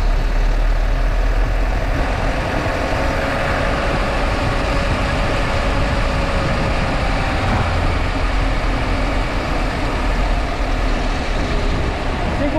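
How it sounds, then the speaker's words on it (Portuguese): A Mercedes-Benz city bus on route 769 rumbles steadily with a loud, continuous low engine drone as it travels along the street, with no break or change throughout. "Observa aí o ronco do motor, gente. Esse aí é um Mercedão"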